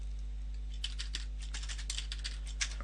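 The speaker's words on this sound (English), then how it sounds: "So I've started by typing a pair of triple quotes into Python." Fingers tap on a computer keyboard while writing Python, with irregular, quick clicks at close range over a steady low electrical hum.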